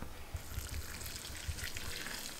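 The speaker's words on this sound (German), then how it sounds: "So, der Moment gekommen ist, wo wir das Wasser drüber kippen tun." Water is poured over dried trekking food, noodles with soy bolognese, making a steady, close splashing and trickling pour that runs for the whole moment.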